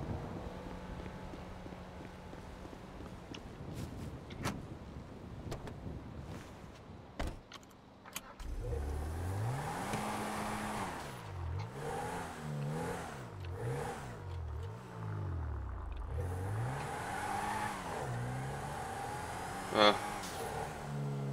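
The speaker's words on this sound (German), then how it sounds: "wir sind ja noch auf der Autobahn" A car cruising on the Autobahn near Frankfurt, with a steady low road and engine rumble underneath and people talking over it for most of the stretch.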